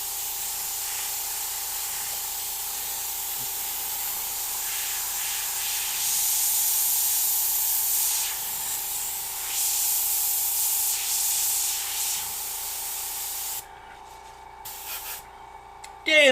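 Steady airbrush hiss spraying paint onto a skull design for a Puerto Rico flag artwork, continuous close spray with slight pulses and a constant background hum, cutting off near the end.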